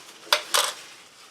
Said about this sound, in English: Clean the spoon.